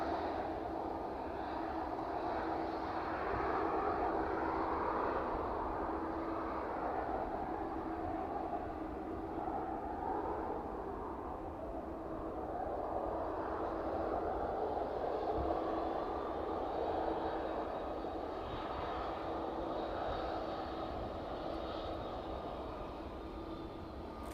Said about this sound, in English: West Atlantic vacating off of the runway onto the taxiway then.